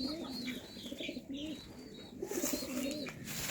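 Several white pigeons coo repeatedly in soft, rounded phrases, with chirps and other bird calls mixed in at a village poultry setup, close and steady throughout.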